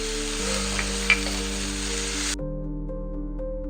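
Roasted onion, tomato and cashews are stirred in a pan for a chhole masala, giving a steady close sizzle with a brief scrape of the spoon; the heat seems to drop off partway, leaving a quieter hiss.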